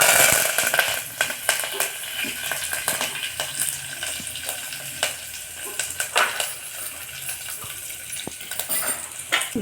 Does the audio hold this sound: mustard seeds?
yes